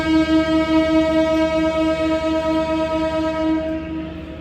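Locomotive horn of the Sri Tanjung train as it departs Surabaya Kota after a locomotive change, a loud sustained multi-tone blast held steady for about four seconds before tapering, close by with no talk.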